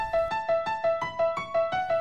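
A melodic dubstep synth lead repeats a short, unchanging ostinato, with evenly pulsing notes about five times a second, heard alone and steady without talk.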